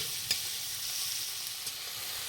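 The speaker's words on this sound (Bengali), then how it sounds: "আমরা কাঁচা পেঁয়াজগুলোকে তেলের মধ্যে ছেড়ে দেব" Raw onions sizzle in hot oil while being fried for a village-style egg curry over a clay stove, giving a steady, soft crackling hiss with a couple of faint stirring knocks.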